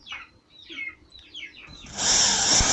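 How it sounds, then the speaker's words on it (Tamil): A few soft scraping sounds, then a power drill starts up abruptly and whirs loudly at a steady pitch as it drills into a 1000-liter water tank. "இப்போ நான் ட்ரில் பண்ணிக்குவோம்"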